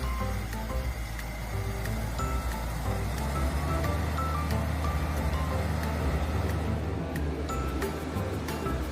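Sidewalk polisher machine on a Shanghai street, its motor running with a steady, loud low rumble and hum that continues throughout, with faint clicks and background traffic noise.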